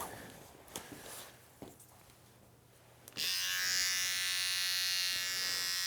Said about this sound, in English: Grab my trimmer.